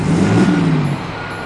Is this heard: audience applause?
no